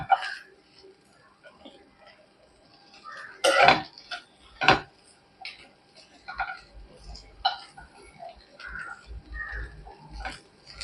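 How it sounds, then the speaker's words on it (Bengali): Boiled potatoes being pressed and mashed with a metal spatula in a pan for Bengali mini samosa filling: scattered close scraping and clacking knocks, with a few sharper strikes against the pan. "এবার খুন্তি দিয়ে চেপে চেপে আলুটাকে আমি খুব ভালো করে ম্যাশ করে নেব।"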